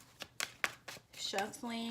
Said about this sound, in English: doing a little more shuffling on camera